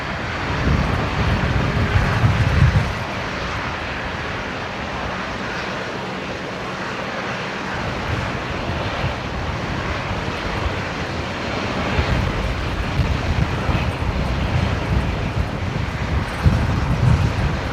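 A Virgin Australia airliner takes off from runway 19 right at Brisbane Airport, its jet engine roar steady and broad from start to finish, swelling slightly near the end, with some wind buffeting and no talk.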